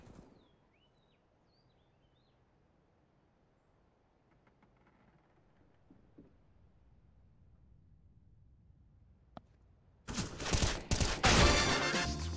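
AK rifle fire in Counter-Strike: Global Offensive on the Italy map: a long near-silent stretch with faint ambience, then a sudden loud burst of rapid automatic shots near the end.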